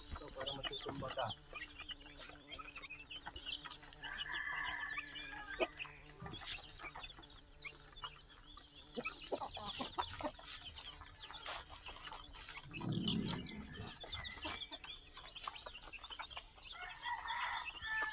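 Chickens and roosters on a small Filipino farm cluck and crow steadily throughout, with occasional bird calls, rustling and handling noises close by and a person speaking now and then.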